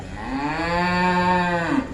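A cow lets out one long, loud, close moo from a mango grove beside a temple, a steady drawn-out call of about two seconds that ends with a slight rise, with no voices over it.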